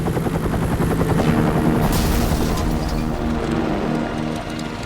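A helicopter in the video game X-Men: Destiny whirs loudly and continuously, its rotor thumping in a steady rhythm with a high whine on top, close and alone without talk.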